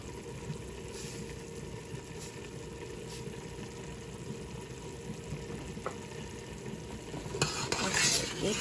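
A stove being cleaned in a home kitchen, with steady soft wiping and scrubbing close by, faint metallic clinks, and a louder rubbing burst near the end, no talking.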